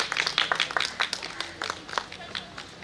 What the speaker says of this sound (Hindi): आइए इस्तकबाल कीजिए मोहतरमा नैना सुइन कपिल साहिबा का जोरदार तालियों के साथ।